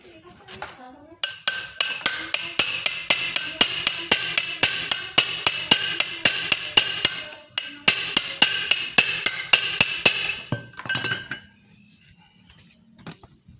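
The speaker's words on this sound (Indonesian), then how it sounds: "Setelah itu kita masukkan pipa, lalu kita pukul." Rapid metallic hammer blows on a pipe driving a new oil seal into a Honda Supra motorcycle, close and loud, in two long steady runs of ringing strikes separated by a brief pause.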